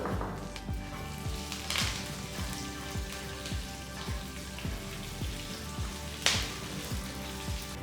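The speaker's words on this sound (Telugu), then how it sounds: "ఆవాలు చిరపడలాడటం మొదలుపెట్టాయి" Mustard seeds splutter and sizzle in hot oil as a tempering for cucumber rice, with cumin, halved dried red chillies and curry leaves in the pan: a steady close sizzle with repeated sharp pops throughout, no talking.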